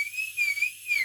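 A person whistles one clear, steady high note close by, holding a sustained tone that wavers slightly over about a second.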